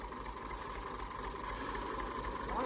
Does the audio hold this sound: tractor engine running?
yes